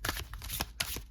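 Black-edged tarot cards being shuffled by hand, a run of soft papery riffles and slides in quick bursts, close and fairly quiet with no talking.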